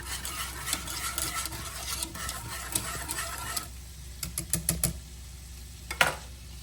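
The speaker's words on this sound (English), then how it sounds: "We're going to stir these one more time." Leftover cooked catfish being stirred in a pan with honey and sesame seeds, a soft sizzle under repeated clicking scrapes of the utensil, then the sizzle drops away leaving sparse sharp taps near the end, close and unaccompanied by talk.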